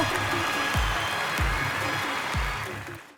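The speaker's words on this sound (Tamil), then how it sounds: "அத்தனை கலைஞர்களுக்கும் ஒரு பெரிய கைத்தட்டல் இடத்துல கொடுக்கணுன்றது ஆசை" An audience at a film audio launch applauds the crew, producing a steady wash of clapping, while sharp rhythmic bass thumps from the venue's music punctuate it before the sound fades at the end.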